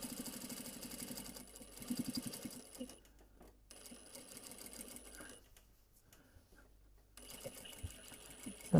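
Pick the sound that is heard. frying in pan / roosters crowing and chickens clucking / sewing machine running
sewing machine running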